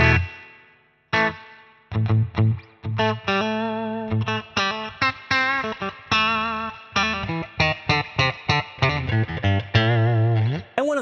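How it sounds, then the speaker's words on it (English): An electric guitar plays through a Surfybear Compact spring reverb set to a low mix, with a series of distinct plucked notes and chords separated by short gaps and only a light, short reverb tail behind each note. "So if I switch the mixer to 1, basically I have lower amount of reverb."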